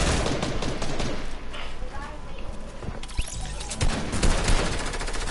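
Semi-automatic gunfire in a shooter video game, a run of sharp repeated shots mixed into dense, busy game noise and effects, with a player talking over it throughout.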